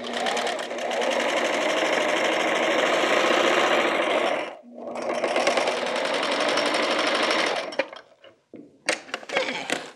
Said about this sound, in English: Now we're just gonna do a straight stitch all the way around, about a half of an inch in.